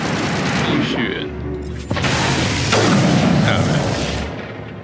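Rockets and gunfire from enemies in the Mass Effect video game, with loud booming blasts and a burst of rapid shots that fill the stretch, a sharp impact near the middle.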